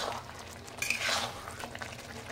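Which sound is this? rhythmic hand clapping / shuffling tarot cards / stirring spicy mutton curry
stirring spicy mutton curry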